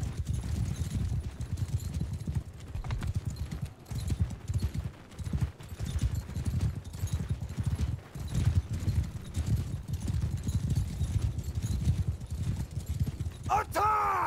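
Rapid hoofbeats pound continuously under a busy battle mix in Mount & Blade II: Bannerlord, many horses galloping at once with scattered clatter and a brief sharp sound near the end.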